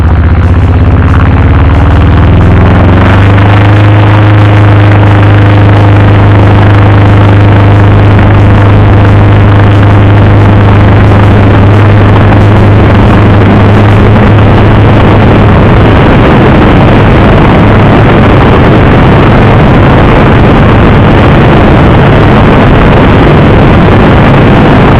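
Minisport light aircraft engine droning steadily in flight, a loud continuous low hum that shifts pitch slightly in the first few seconds and then holds a constant roar with wind noise throughout.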